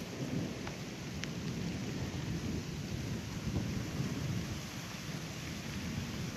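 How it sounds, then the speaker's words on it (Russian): Steady rain pours down outdoors at the end of summer as a storm gathers, with thunder rumbling low and continuous underneath; the downpour is close and even throughout, with no voices. "Дождик так более-менее пошел."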